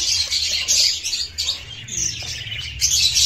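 Breeder pigeons kept in cages call out in a series of loud, close, high chirps that keep coming in overlapping bursts, with no one talking.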